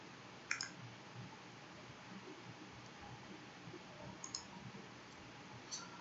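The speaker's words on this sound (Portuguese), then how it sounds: "eu vou clicar aqui nele e vou clicar na tabela" Faint computer mouse clicks sound at a desk, a single sharp click followed later by a quick pair and one more, over quiet room hiss.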